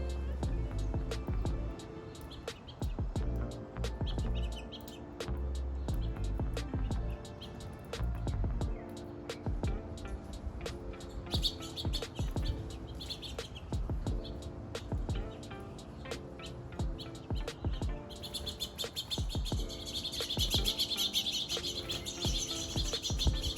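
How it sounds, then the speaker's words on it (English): Small birds chirp and tweet in short repeated calls around a homemade self-feeding bird feeder, with a steady outdoor background hum and occasional passing traffic. "now I will roll a clip where the birds are actually eating"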